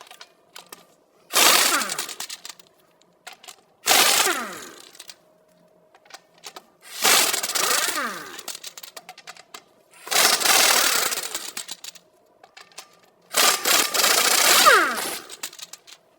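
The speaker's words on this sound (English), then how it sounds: "Socket, let's loosen and remove the studs." A socket wrench on a 2009-2017 Volvo XC60 rear wheel loosens and removes wheel studs in five loud, separate bursts of rapid ratcheting clatter, each a second or two long, with quiet gaps between.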